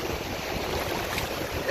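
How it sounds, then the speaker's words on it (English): Ocean surf washes continuously onto the beach at Varadero, Cuba, a dense, steady roar of breaking waves heard close by with wind, no speech. "the waves are so disrespectful right now"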